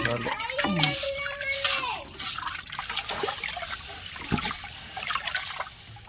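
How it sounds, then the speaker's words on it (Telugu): Drinking water is poured onto washed rice for cooking, with splashing and trickling up close that rise and fade in uneven bursts while a person talks over it. "బియ్యం వండడానికి అయితే మంచినీళ్ళు పోసుకుంటున్నాను"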